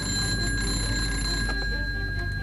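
An alarm bell rings continuously at a WWII Luftwaffe Me 262 jet fighter airfield, calling pilots to an emergency takeoff. The ringing is steady and sustained at an even level, with no voices.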